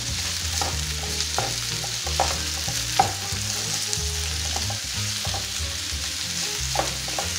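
Onion sizzles steadily in a frying pan while a utensil stirs it, producing soft repeated scraping taps over a constant crackling hiss, with no talking.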